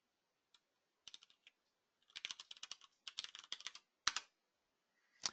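A computer keyboard is used to type a short command: a few isolated keystrokes, then quick bursts of close clacking taps, and finally single firmer key presses, including one like hitting enter.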